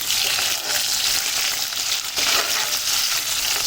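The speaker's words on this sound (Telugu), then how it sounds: "వేసుకొని ఇవైతే కలుపుకోవాలి." Green chillies and onions sizzle steadily in a hot pan for a chicken curry, a continuous bright frying hiss with soft stirring scrapes, close and loud throughout with no talking.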